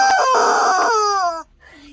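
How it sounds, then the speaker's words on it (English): A squeezed rubber chicken toy lets out one loud, long, strained squawk that bends downward before cutting off, followed by a faint wheezy tail. "Yes, I'm buying a rubber chicken."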